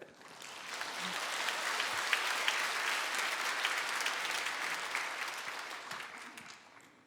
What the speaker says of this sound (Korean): 우리 힘찬 격려의 박수를